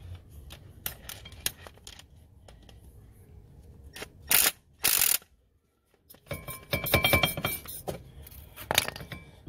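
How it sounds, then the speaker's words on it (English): A hand impact driver struck with a hammer while tightening a brake caliper bolt on an Acura TL, with two loud metallic blows amid lighter clinks and tool handling close by. "Gotta use my hand impact."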